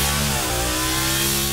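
Bugatti V16 naturally aspirated combustion engine revving steadily and loudly at close range, a dense, sustained mechanical roar with layered harmonic tones throughout.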